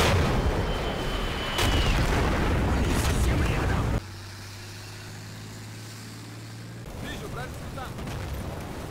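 Explosions and anti-aircraft gun bursts from a Falcon AAA gun in the Cold War video game Combat Mission Cold War, loud booms and rumbling with a quieter tonal stretch midway before the noisy battle sound returns.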